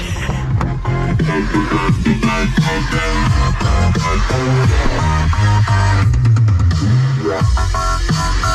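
Loud, bass-heavy music with a thumping beat plays continuously, sounding muffled and boomy from an Isuzu MU-X car stereo heard outside the vehicle.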